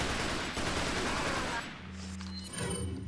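TPM submachine gun in Resident Evil 4 firing a sustained rapid burst, loud and continuous, then cutting off into quieter game sounds with a few trailing shots.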